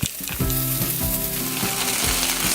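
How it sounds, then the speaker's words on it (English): Garlic toasts in a hot pan with a loud, steady frying sizzle that fills the clip alone, while salsa roja ingredients are being prepared. "The garlic is really toasting"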